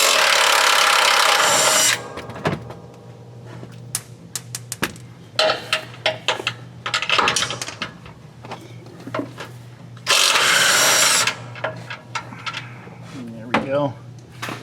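A power tool zips 16mm nuts off in the engine compartment of a 2019–2024 Dodge Ram Cummins, with two loud sustained whirring bursts separated by clicks, clanks and someone talking nearby.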